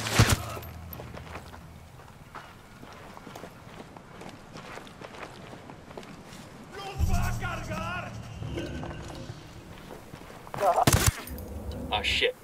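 Gunfire in Ghost Recon Wildlands amid footsteps and movement, with bursts of shots around the middle and a louder volley near the end, while voices talk over parts of it.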